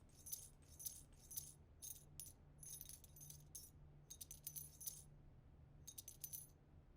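A quick series of bright metallic key jangles, the pickup effect in the video game Blue Prince, repeats in clustered bursts over a faint steady hum with no talking.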